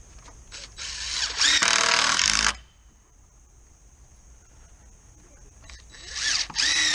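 DeWalt 20-volt impact driver sinking screws into wooden greenhouse base boards, a loud rattling burst, a quiet gap, then another short run starting up.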